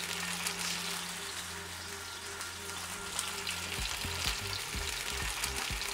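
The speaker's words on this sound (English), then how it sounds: "take the rice cakes, put them right in the oil, and you let them cook on each side for about 5 minutes" Rice cakes frying in hot oil: a dense, loud, steady sizzle throughout, with a low hum early on, then a run of soft irregular bumps and knocks near the end.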